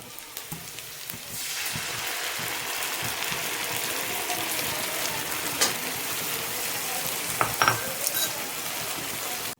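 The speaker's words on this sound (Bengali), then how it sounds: "ভিনিগার মিশিয়ে রাখা সসটা এবার অ্যাড করে দেবো" Chili chicken sizzles in a pan as a vinegar-mixed sauce goes in, giving a steady close frying hiss that swells after the pour, with scattered scraping and clinking of a utensil against the pan.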